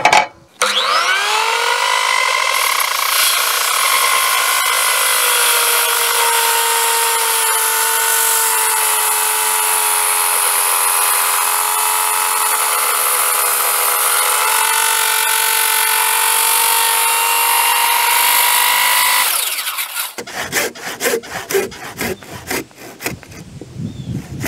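A big power saw cuts through the end of a 7-inch construction timber while second-floor joists are set, a loud sustained whining cut of nearly twenty seconds that ends in rattling wind-down and clatter.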